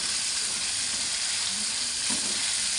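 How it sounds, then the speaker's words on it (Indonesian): Spices sizzle steadily in hot oil in a pan while they are sautéed, with faint stirring scrapes now and then. The sound is close and constant, with no talking. "Dan sambil kita menumis"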